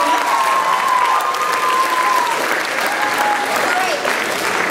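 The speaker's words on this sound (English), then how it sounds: "Please give her a round of applause." An audience at a harmony night event breaks into loud, sustained applause that lasts the whole stretch, with a few voices rising through the crowd noise.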